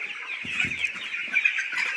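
Several Sonali chickens cluck and chatter continuously nearby, with soft, low squawks rising over the flock's steady murmur.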